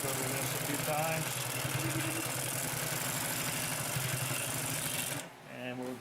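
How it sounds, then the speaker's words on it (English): A Consew P2339 double needle walking foot sewing machine stitching through a thick, sturdy piece of fabric, its motor humming with a fast, even needle rhythm up close for about five seconds before it stops. "So we're going to sew back through this."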